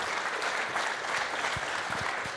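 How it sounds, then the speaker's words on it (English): An audience at an education summit showcase applauds in a full, continuous round of clapping, even and steady throughout the short stretch. "And a round of applause, please, for that."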